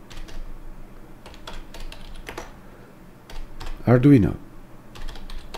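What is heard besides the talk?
typing a terminal command on a computer keyboard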